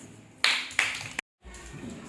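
Children in a classroom clap in a short burst, two or three sharp claps close together, then a brief silence followed by low background noise.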